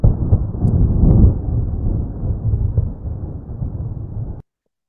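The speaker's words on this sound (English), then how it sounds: "deep rumble of the storm echoes through the sky and loudness soft" A synthesized storm rumble rolls low and continuous for about four seconds, soft and distant-sounding, then cuts off abruptly into silence.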